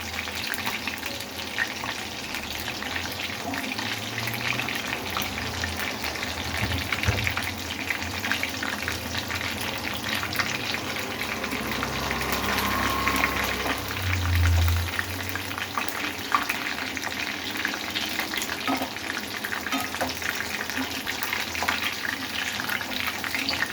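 Quail pieces, small legs first and then larger pieces, deep fry in hot oil marinated with lemon, giving a steady, close sizzle and bubbling that runs unbroken throughout, with no talking.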